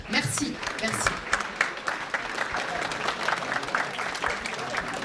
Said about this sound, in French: je crois qu'on peut vraiment vous applaudir pour ça.